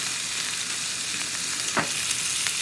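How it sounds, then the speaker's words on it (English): Carrots sizzle steadily in a pan with sugar and molasses, a dense continuous frying hiss with a brief louder stir or crackle near the end, fairly close and with no voices. "fry until a little bit crispy"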